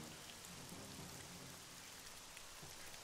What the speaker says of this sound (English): Crazy raindrops!